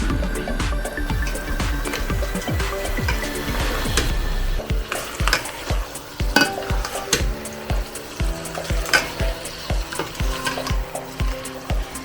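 Finely chopped small tomatoes hit a pan of ginger, garlic and turmeric masala for karela qeema, frying with a loud, steady sizzle while a spoon scrapes and stirs in repeated strokes, close up and without talk.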